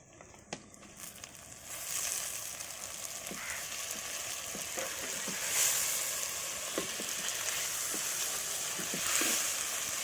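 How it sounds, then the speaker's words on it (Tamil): Onions and tomatoes sizzle and crackle steadily in a hot pan, with occasional stirring scrapes and clinks; no voices. "தக்காளி ஒரு 2 நிமிஷம் நல்லா வதக்கிக்கலாம்."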